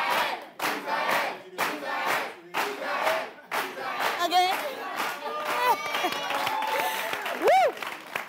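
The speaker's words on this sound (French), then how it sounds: "Applaudissements pour eux." An audience at a dance show semifinal claps in steady rhythmic beats, then swells into louder applause mixed with shouts, cheers and whistle-like cries, with voices talking throughout.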